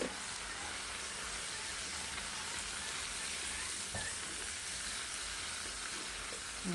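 Sponge gourd (patola) sizzles in a sautéing pan, a soft, even hiss of frying that continues throughout with a light clink or two and no talking.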